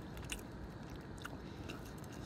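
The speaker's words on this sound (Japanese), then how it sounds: "サンマ食ってるって感じ。" Saury fish being chewed at a campsite meal: faint, close soft mouth sounds and small bites with a low rumbling background, no talk.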